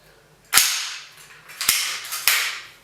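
Three sharp dry-fire clicks from a Swedish K m/45B open-bolt submachine gun during a function test with an empty chamber, each a crisp metallic snap of the bolt, spaced about a second apart, close and loud with no talk.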